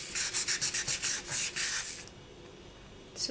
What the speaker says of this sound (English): now I'm going to just sand the front here, because we've got a bit of a divot on the front here